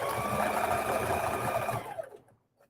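Sewing machine running a long stitch along an infinity scarf, a fast steady whirring chatter that cuts off abruptly near the end, followed by a brief faint clunk.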